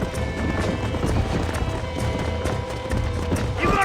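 Several horses gallop in Red Dead Redemption with steady clip-clop hoofbeats, loud and continuous, while a horse whinnies and voices talk over the running.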